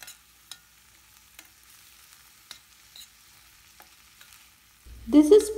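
Cluster beans frying with sambar powder in a pan, soft sparse scraping and sizzle ticks as they are stirred, then a louder burst of stirring and sizzling near the end, no talk.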